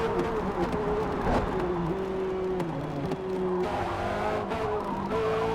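Race car tyres skidding under braking in Forza Motorsport, a racing video game: long, wavering tyre squeals over a constant engine drone, close and fairly loud, shifting in pitch as the car slows and turns.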